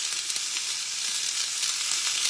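Fresh garden vegetables fry in a hot pan with a steady, bright, hissing sizzle and faint crackles, close and continuous with no voices.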